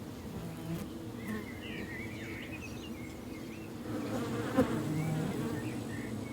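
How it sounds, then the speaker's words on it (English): A steady, dense hum of many honey bees buzzing close by at an apiary, continuous throughout, slightly louder toward the end. "1 million bees visiting 1 billion blossoms every day"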